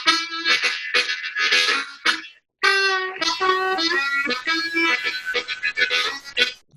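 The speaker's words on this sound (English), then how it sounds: "So the A harmonica sounds like this." An A harmonica plays a lively bluesy phrase of bent and chorded notes with short breathy gaps and a brief pause midway, close and fairly loud, no voices.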